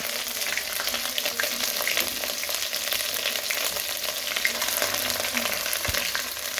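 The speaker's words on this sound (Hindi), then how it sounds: "प्याज ज़्यादा ब्राउन नहीं करने, बिल्कुल लाइट से ब्राउन हो" Onions fry for a Pakistani degi-style chana pulao, a dense, steady sizzle with faint stirring scrapes, close and continuous throughout without any talking.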